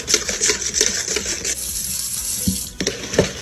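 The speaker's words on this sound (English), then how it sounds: "Whisk all of that together." A coleslaw dressing of mayonnaise, onion powder and spices is whisked in a bowl: quick rhythmic clinks and wet swishing up close, a short lull, then a few separate taps.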